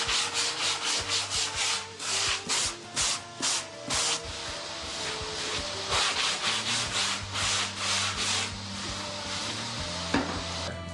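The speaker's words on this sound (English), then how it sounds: "we're going to sand up the nose, stick on the nose bulbs, and sand in the channels" A sanding block rubs back and forth across the nose of a foam bodyboard in quick rhythmic strokes, close and clear, then settles into a steadier scraping with no talk over it.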